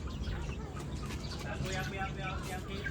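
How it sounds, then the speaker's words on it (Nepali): Chickens of two or three breeds cluck in a small garden, with scattered soft calls and coos over a murmur of background voices and ambient noise. "यहाँ कुखुराहरू, जात जातको कुखुराहरू, 2-3 जातको कुखुराहरू रहेछ।"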